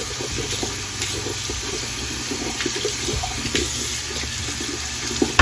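Running tap water splashes steadily as doll hair is rinsed underneath, a continuous close watery rush with small splatter variations throughout, no talking.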